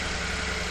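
A 2011 Buick Lacrosse CXS engine idles in a brief, steady low rumble with a constant hum, close and even, with no talking.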